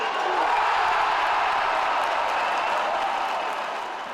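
A packed basketball gym crowd roaring and cheering, a continuous dense wash of voices and applause sustained at high volume, easing slightly toward the end.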